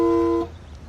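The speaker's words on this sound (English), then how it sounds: "Thank God he honked at these cars, because now they can start moving again." A single car horn honk sounds over stopped traffic, a steady loud tone lasting under half a second before cutting off to low street rumble.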